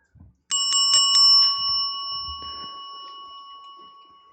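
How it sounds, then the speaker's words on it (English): A hand bell rung close by: four quick, bright strikes ring out, then a long shimmering tone fades away, with a few faint bumps underneath. "Well, I got a bell I'm going to ring."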